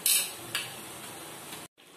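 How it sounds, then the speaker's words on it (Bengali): Chopped tomato goes into a pan of frying ginger, garlic and green chilli paste and is stirred, with a faint sizzle and a few sharp utensil scrapes and clicks before a brief cut. "এবার আমি টমেটোর কুচিটা ঢেলে দিচ্ছি"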